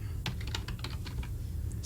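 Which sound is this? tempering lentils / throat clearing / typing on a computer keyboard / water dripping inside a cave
typing on a computer keyboard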